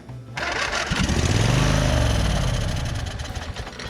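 A Briggs engine fitted to a Husqvarna Z246 zero-turn mower cranks and fires up, settling into a loud, steady running roar close by after a brief quiet start.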